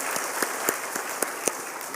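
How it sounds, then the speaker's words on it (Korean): Congregation members clap together during a Sunday worship service at a church, a soft continuous patter of applause with a few sharper, nearer claps standing out. "우리 다 같이 격려하는 마음으로 함께 박수하겠습니다"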